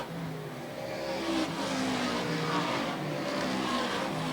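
Race cars circling the track at Airborne Speedway in Plattsburgh, New York, a dense continuous engine roar with swells as cars pass, steady and loud throughout with no talking.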